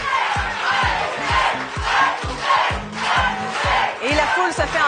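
Game show studio audience cheering and chanting in rhythmic, loud bursts, with pulsing shouts repeating steadily throughout.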